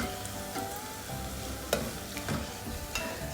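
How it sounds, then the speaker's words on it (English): Fenugreek seeds crackle and hiss in hot oil in a pan, a steady close sizzle broken by a few faint stirring scrapes. "while Mary is stirring, all this gets cooked down"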